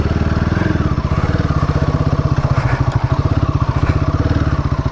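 Sport motorcycle engine running in straight mode on a slippery, muddy trail, a loud close rhythmic chugging pulse that holds steady throughout.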